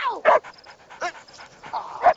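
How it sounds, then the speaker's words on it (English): A dog in a TV scene whimpers and pants in short breathy bursts and high whines, interleaved with people talking over and around it at close range. "Hey, Walt, you gotta keep that dog quiet."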